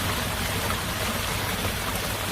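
Heavy rain falls in a storm at night, a loud, dense, continuous roar of water pouring down with a low rumbling undertone, steady from start to finish and heard alone.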